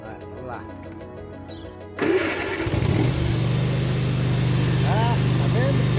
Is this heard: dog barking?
no